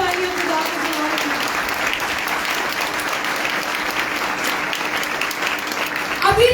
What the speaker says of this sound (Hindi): जोरदार तालियां खुदा के लिए।